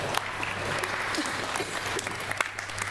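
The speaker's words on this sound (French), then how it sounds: "applaudissez-le un peu tout de même, c'est notre maire." A theatre audience applauding a mayor steadily, a dense continuous patter of clapping that holds at an even level throughout.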